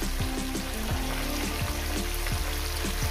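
Yardlong beans frying in a hot pan give a steady, close sizzle, with faint clinks and scrapes of stirring repeating throughout and no voices.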